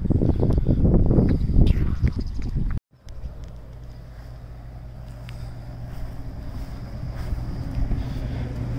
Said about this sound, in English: The wind is probably horrific.